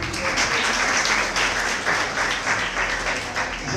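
Steady applause from a crowd at an excellence awards day in Diawara, dense clapping that holds at an even level throughout without pause.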